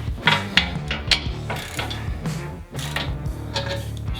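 A hand ratchet backs out the skid plate bolts on a Ford Bronco in a small garage, its pawl clicking in close, quick bursts with short pauses between strokes.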